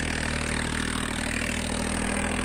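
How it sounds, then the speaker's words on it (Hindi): A Swaraj 960 FE tractor with a changed, modified silencer drives a Field Marshal 813 superseeder in a grassy field, making a steady, loud, continuous engine drone with a low harmonic hum and no pauses throughout. "अपना ये स्वराज 960 आवाज़ में थोड़ा इसके फ़र्क मिले है क्योंकि इसके सिलेंसर बदल रखा है"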